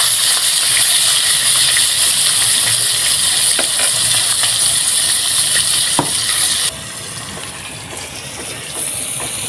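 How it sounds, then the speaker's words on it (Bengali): Pangas fish fries in hot oil in a village kitchen, a loud, close, continuous sizzling hiss with occasional pops, dropping slightly in level near the end. "একদম লাল লাল করে ভাজবো, তরকারি রান্নার জন্য এরকম করে ভাজা হয়"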